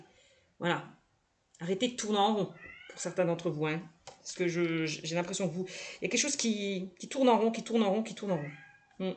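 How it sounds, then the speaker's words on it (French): A cat meows somewhere in a room, a few short cries that are mostly buried under someone speaking steadily in French. "C'est mon chat qui miaule"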